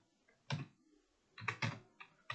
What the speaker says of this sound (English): we are going to type in HTML code